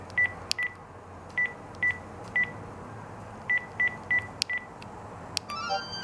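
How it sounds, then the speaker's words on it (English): A Panasonic KX-TG8231CB cordless phone plays a short run of electronic beeps, clipped and evenly spaced in small bursts, faint and clean against a quiet room with no talking. "I'm just gonna play the ringtones for you guys."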